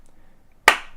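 One sharp hand clap, close and bright, with a short decaying ring after it in an otherwise quiet room.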